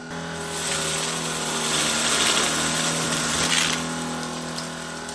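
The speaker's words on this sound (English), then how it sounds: "Let's test this shark out on carpet." A Shark ICZ300UKT cordless upright vacuum cleaner runs on carpet in medium mode, a steady close whooshing hum that swells slightly as it is pushed across the pile, heard alone without speech.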